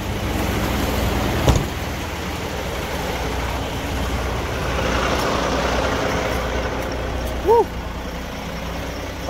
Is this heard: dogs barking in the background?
no